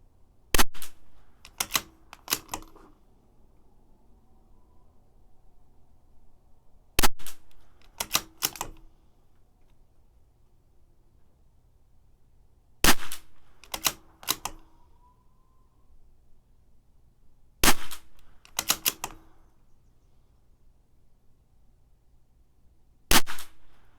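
A CZ 457 rifle fires five rounds of Lapua X-ACT ammunition. Each sharp, loud crack is followed by quick metallic clicks from the action, with about five seconds of quiet between shots.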